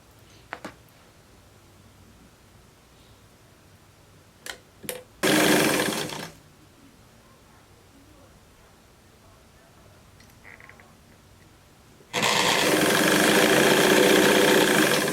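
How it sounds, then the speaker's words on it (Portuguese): Sewing machine running a thin seam along the edge of a blouse, sounding in two bursts, one about a second long and a longer steady whir at the end, with a few soft clicks and handling noises between. "agora é só ir aqui na máquina e passar uma costura bem fininha aqui"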